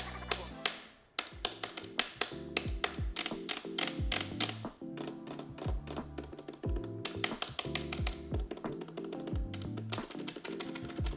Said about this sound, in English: that bottoming out of the button plunger into the housing